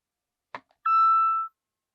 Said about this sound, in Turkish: Ürünü kablosuz şarj yazına koyduğunuz zaman arkadaşlar küçük bir bildirim sesi geliyor.